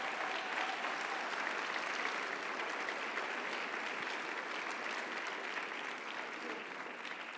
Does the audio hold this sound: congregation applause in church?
yes